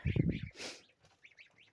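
A few quick nasal quacks sound close, followed by softer scattered duck calls trailing off.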